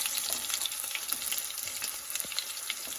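Chopped onions fry in a pan on the stove, giving a steady, close sizzle and crackle that runs the whole time with a few small stirring scrapes and no talking.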